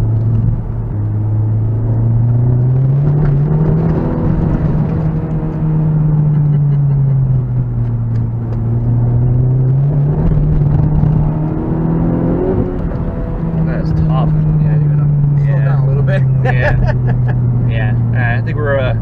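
A Honda Type R accelerates hard from inside the cabin, its engine note a loud, steady drone that rises and falls across repeated pulls, while people talk over it.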